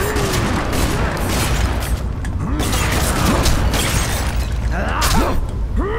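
Shotgun fire in F.E.A.R. 3 within a dense, loud wash of combat noise, heavy blasts and mechanical clatter throughout, a few sharper bursts standing out, with faint talk underneath.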